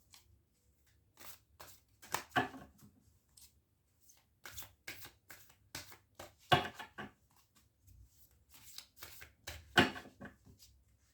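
Tarot cards are shuffled and handled during a reading, producing bursts of crisp riffling and flicking at irregular intervals with quiet pauses between them, close and fairly soft, and no voices present.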